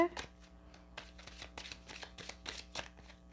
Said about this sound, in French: Donc je vais commencer par distribuer les cartes.